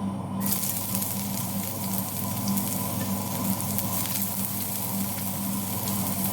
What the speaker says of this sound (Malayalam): ഉള്ളിയും പച്ചമുളകും വേപ്പില ഇതൊന്ന് ചെറുതായിട്ട് നമുക്ക് വഴറ്റാം